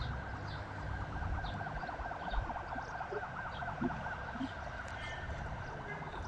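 Ambulance sirens wailing in Istanbul near a large fire with rising smoke, a continuous warbling tone at moderate distance, layered over dense outdoor background noise with no talk.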